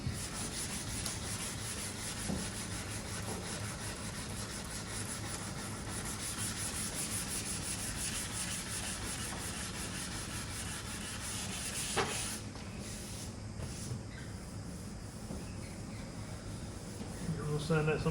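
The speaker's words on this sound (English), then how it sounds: "We'll sand out some of these stone chips over here." Body filler is sanded by hand on the front end of a vandalised MG ZS, where the bonnet, grille and bumper are being prepped and stone chips smoothed out. The rubbing strokes run close and continuous, then ease off near the end, with a voice speaking over them at times.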